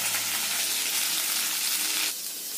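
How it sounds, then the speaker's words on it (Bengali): Potatoes fry in hot oil with a loud, close, continuous hiss that eases slightly near the end, with no voices. "আলুটা ভাজা হচ্ছে"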